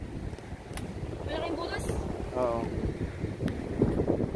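Wind gusts on a seashore under an overcast sky, buffeting the microphone with a steady low rumble throughout. People talk briefly over it.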